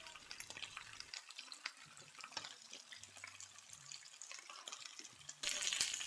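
Bok choy laid into a hot oiled pan fries with a steady, fine crackle and sizzle, close and fairly quiet, running throughout with a louder burst near the end.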